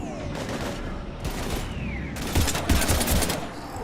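Sustained bursts of automatic gunfire in the sci-fi shooter Mass Effect 3, with heavy fire against husks; dense rattling volleys, loudest in the second half, over game ambience with no voices.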